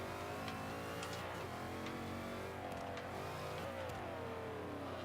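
A 2005 Ford GT's engine accelerates in the Forza 5 racing game, a loud, continuous mid-pitched roar whose tone climbs and dips as the revs rise through gears.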